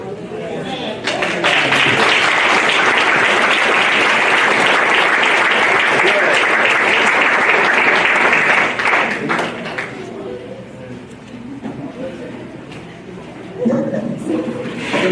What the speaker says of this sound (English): Let me give another hand clap for them